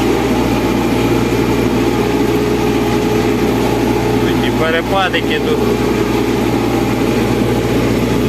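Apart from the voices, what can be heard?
tractor engine straining while discing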